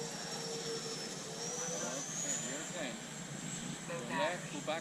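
A Freewing F-14 Tomcat twin 64mm electric ducted-fan RC jet flying, a thin high whine that shifts in pitch as it passes, moderately distant, under breezy outdoor noise.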